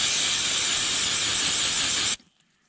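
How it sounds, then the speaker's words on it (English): A steady, loud aerosol spray of starting fluid or parts cleaner on a Yamaha Viking differential hisses for about two seconds, then cuts off abruptly, leaving near silence. "spray some starting fluid / parts cleaner."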